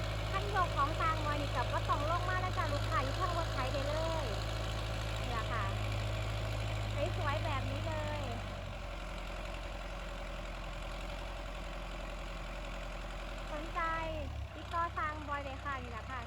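A farm tractor engine idles steadily, powering a hydraulic dump trailer, its low drone running throughout and easing slightly partway through, while someone talks over it.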